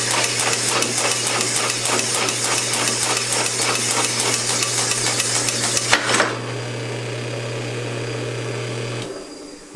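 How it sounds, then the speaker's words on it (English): A cylinder honing machine with 300 grit stones works inside a bored engine cylinder, giving a steady motor hum under a fast, rhythmic metallic chatter that stops abruptly, after which the motor hum runs on alone. "now we go to this honing machine. And this has the 300 grit stones on it"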